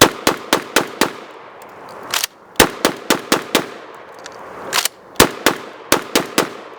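An IWI Tavor TS12 12-gauge bullpen shotgun fires in quick bursts of loud, sharp reports, several shots in close succession, then brief pauses, then more rapid strings.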